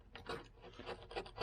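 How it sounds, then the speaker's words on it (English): A fresh razor blade lightly scrapes old coating off a car headlight, making quiet, close, raspy rubbing strokes in a steady back-and-forth rhythm, with no voices. "I got a fresh razor blade, lightly scraping this old crap off."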